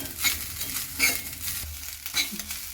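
Grated coconut sizzles and crackles in a hot pan while a spoon scrapes and stirs it in repeated strokes, close by with no talking.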